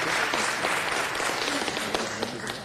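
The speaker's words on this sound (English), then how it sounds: "Please give her a round of applause" A short burst of crowd applause at a Los Angeles city council meeting, steady many-handed clapping that thins slightly toward the end.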